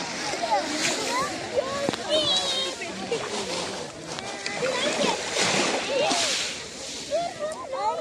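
Warm sea water at the shore in Antalya splashed and sloshed by hand, with repeated close splashes and swishes over about eight seconds while someone talks throughout.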